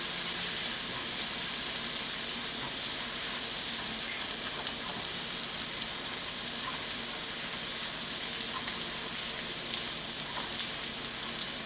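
Onion and garlic sweat in a hot pan for a risotto, producing a loud, continuous, even sizzle that holds steady from start to finish without pauses.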